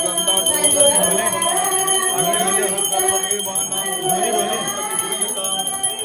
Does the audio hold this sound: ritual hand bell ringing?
yes